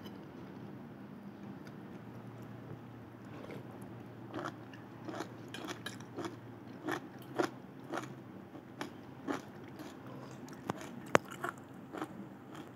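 Crunchy pak choy being chewed from a Korean clay pot ramyun meal, a steady series of crisp, close bites and crunches repeating irregularly over a low, quiet background hum.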